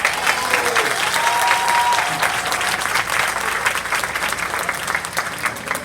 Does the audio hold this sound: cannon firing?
no